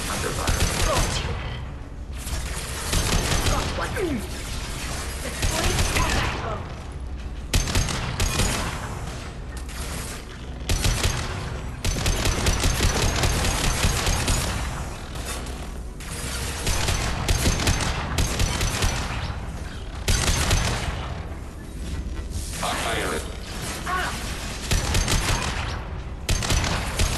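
Loud, dense gunfire fills a Mass Effect 2 battle, continuous bursts of rapid shots and mechanical clatter with brief lulls, all very close and intense.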